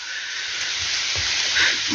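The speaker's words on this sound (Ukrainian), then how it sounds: "Знову пускається дощ." Rain starting up again during a mushroom-picking walk, heard as a dense, steady hiss close by, with a few faint low knocks beneath and no voices.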